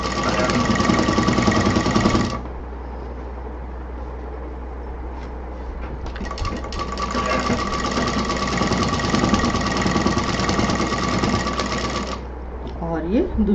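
A sewing machine stitches a pocket on a tote bag in two loud, steady buzzing bursts, the first about two seconds long and the second about six seconds, with a quieter pause between them and a voice talking nearby.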